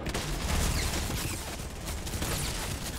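Rapid gunfire in the Fortnite video game, a dense, continuous volley of shots that fills the whole stretch at steady loudness.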